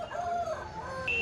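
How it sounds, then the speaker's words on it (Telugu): A rooster crows at a busy Sunday poultry market in Peeleru, Annamayya district. One close, drawn-out call rises and holds over a dense background of market noise. "ఇక్కడ కనిపిస్తున్న కాకి పుంజు కూడా మన సమీర్దే."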